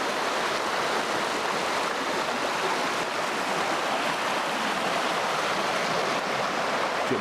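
Rushing water of a side channel of the Verde River swollen with snow runoff, a steady, broad, close hiss and churn that stays even and continuous throughout.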